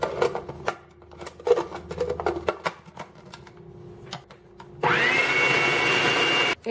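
Blender mixing cheesecake batter with added flour and vanilla: a steady, loud whirring burst starts partway through and runs for about two seconds after a stretch of quieter clatter and handling noises.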